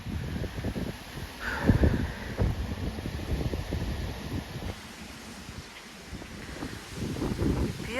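Strong storm wind gusts across a garden plot, buffeting the microphone in rough, uneven surges that rise and fall, with rustling in the background and no clear speech.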